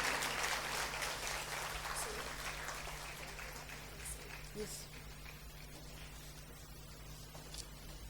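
Audience claps to welcome guests at the Unsung Everyday Heroes awards ceremony, a moderate burst of applause that fades gradually over a steady electrical hum, with some voices mixed in.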